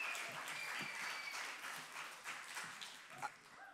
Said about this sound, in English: we need a longer clap